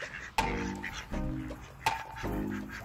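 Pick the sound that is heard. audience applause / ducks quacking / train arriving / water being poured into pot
ducks quacking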